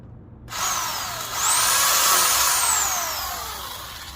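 A Portland 1.5hp electric pole saw whirs up and bites into a wood branch, its motor pitch sliding as it cuts through, loud and close, no speech.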